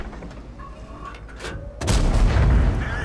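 A tank cannon firing in World of Tanks during a Clan Wars match between an M48 Patton and an IS-7: a sudden heavy boom that follows quieter mechanical clanks, then a loud, rumbling blast tail.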